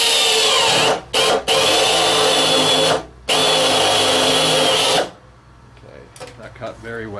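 A power drill with a spur point bit whines loudly while drilling out a car body spot weld, in three bursts with short pauses. Then it stops and faint clicks and handling noises follow.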